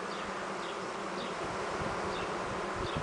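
A caught swarm of honeybees hums as a dense, continuous buzz, steady and fairly close, with no talking over it.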